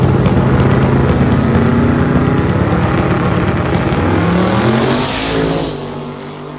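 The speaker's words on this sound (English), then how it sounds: "we can see if we can get a good launch off these cars" Holden cars launch at a car event with loud, sustained engine revving close by. The roar holds steady, then the pitch shifts and fades slightly as the cars pull away near the end.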